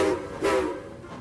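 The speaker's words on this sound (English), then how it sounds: "has a deep whistle which sounds like this" A deep steam whistle sounds in two short blasts, the second slightly stronger, with a low rumbling tone underneath.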